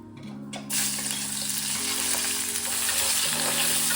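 Onions fry in a pan, a steady, close, bright sizzling hiss that holds throughout, with faint tones running underneath.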